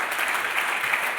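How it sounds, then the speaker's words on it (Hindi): An audience at an achiever celebration event in Kota claps together in a steady, loud burst of applause with no pauses. "अरे ताली बजा दो बढ़िया वाली।"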